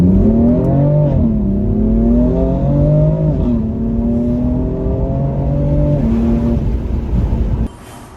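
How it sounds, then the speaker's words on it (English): A BMW M4 (F82) engine with an aftermarket mid-pipe pulls and climbs through gears, then cuts off abruptly near the end, leaving quieter low rumbling exhaust burbles; no distinct crackling pops stand out. "I like the burbles on D-cell."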